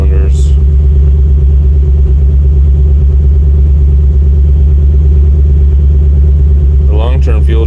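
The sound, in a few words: LS swapped truck engine idling around 1000 rpm with misfire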